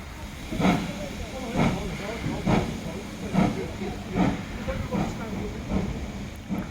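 Great Western Manor Class 7812 steam locomotive at the Severn Valley Railway winter steam gala, departing Bridgnorth with evenly spaced chuffs and steam hiss, the exhaust beats gradually softening as it pulls away.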